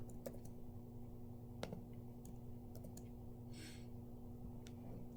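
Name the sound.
typing on a computer keyboard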